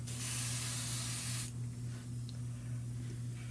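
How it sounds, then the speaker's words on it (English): A steady airbrush spraying red paint hisses loudly for about a second and a half, then drops to a softer, continuing hiss over a low constant hum. "we're going to spray it in that direction to help control the overspray"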